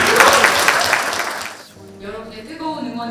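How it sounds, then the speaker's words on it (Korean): An audience bursts into dense, sustained applause at a TBS broadcasting event for about a second and a half, then the clapping thins out and a voice takes over. "박수 한번 주세요."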